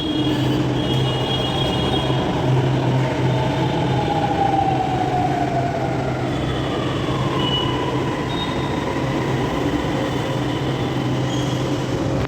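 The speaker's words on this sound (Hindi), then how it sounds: "I have to reach office by 9:30 and हर्रिडली I have to catch metro फटाफट से" A commuter metro train rumbles along continuously at close range, with steady wheel and motor drone, faint squeals rising and falling, and no talking.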